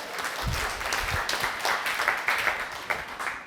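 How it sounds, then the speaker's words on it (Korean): A lecture hall audience breaks into applause for a participant at a professor's talk, a burst of many hands clapping that swells and holds for a few seconds. "박종미님, 박수 부탁드리겠습니다"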